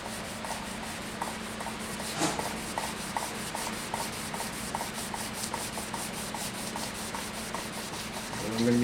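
Hand sanding of a wooden stave drum shell with sandpaper: a steady, close scratchy rubbing in quick regular back-and-forth strokes, with no talking.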